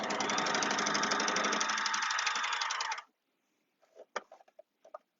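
An overlocker stitches a fabric seam while its blade trims the edge, a loud rapid mechanical whir running steadily for about three seconds before stopping, followed by a few soft clicks and taps close by.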